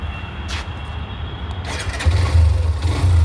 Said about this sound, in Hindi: अब मैं इसका इंजन नॉइस सुनाता हूँ